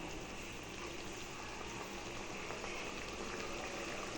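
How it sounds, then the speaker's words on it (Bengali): Quiet, continuous bubbling and hissing of a prawn malai curry at a steady boil in a pan, close by with no voices. "দেখেছে কেমন ফুটছে"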